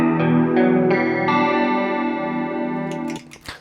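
Guitar through a Flashback Delay pedal on vibe modulation with the depth turned up: several chords strummed in succession, each ringing with a pronounced slow warble, loud and close before fading into a final muted scrape.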